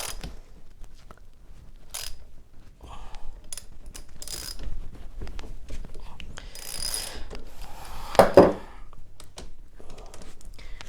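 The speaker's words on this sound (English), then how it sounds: "Now we're just going to start tightening down." Bolts on a Kawasaki Ninja 650 rear sprocket are tightened with a ratchet, giving close, clicking mechanical bursts of varying loudness, spaced irregularly, with a louder clatter near the end.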